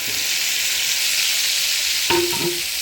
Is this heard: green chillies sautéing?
yes